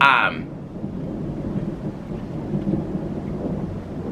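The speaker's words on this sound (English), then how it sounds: "listen to that thunder" A low, long rumble of thunder rolls on steadily after a brief bright sound at the start, with faint rain in the background.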